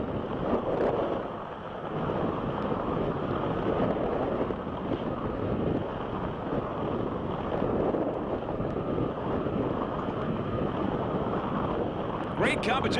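A Pro Outboard racing powerboat, High Risk, runs offshore in a 1995 Palm Beach offshore Grand Prix, with a constant loud roar of engine, wind and water rushing past the onboard microphone and a voice talking over it.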